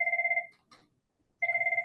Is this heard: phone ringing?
yes